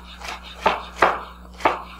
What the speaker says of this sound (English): we're just going to chop it into large chunks